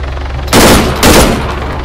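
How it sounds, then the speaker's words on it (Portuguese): Two loud, close bursts of automatic gunfire in an Arma 3 roleplay kidnapping scene, each rapid volley lasting about half a second with a short gap between, no voices over them. "Eu atirei, matei a vítima."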